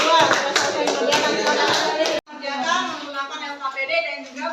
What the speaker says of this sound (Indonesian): tepuk tangan dulu buat kelompok berapa nih?